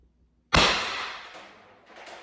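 A single sharp shot from a gun firing a Salt Supply kinetic round, followed by a long decaying echo after a quiet moment.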